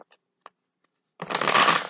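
Tarot cards being shuffled: a few soft card taps, then a close, dense riffling burst lasting under a second, with no talk.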